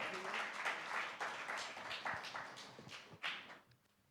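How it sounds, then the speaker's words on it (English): An audience at a panel discussion claps in a quiet round of applause, uneven bursts of hand claps rising and falling before tapering off at the end. "Can we please have a round of applause for her and welcome her?"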